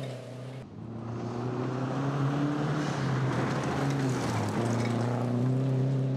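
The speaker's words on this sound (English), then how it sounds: "att Knox has competed on the West Coast, but new roads and new scenery are not going to hold him back in his Mazda 3" A Mazda 3 rally car on a stage of the Olympus Rally, round 1 of the 2011 2WD rally championship, drives hard, its engine droning loud and steady with pitch rising and dipping through gear changes, close and continuous.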